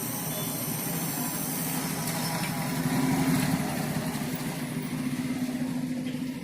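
An electric motor armature spun during a test without its motor housing or bearings, a steady buzzing whir with a low hum, close and fairly loud, running evenly throughout with no voices.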